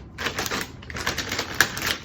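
Rubber stamp pressed with a Stamparatus stamping tool onto paper for a watercolor card, a quick run of light taps and clicks followed by a sharper snap near the end, close and quiet.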